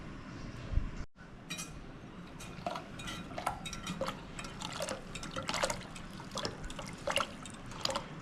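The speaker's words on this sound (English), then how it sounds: "we'll just mix the sugar and milk solution in with the lemon vodka" Sugar and milk solution poured into lemon vodka, heard as faint, soft liquid trickling and splashing with scattered light clinks of glass or utensils, fairly quiet and close.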